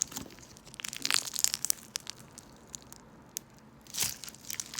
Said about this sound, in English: This is my favorite crunchy slime I have.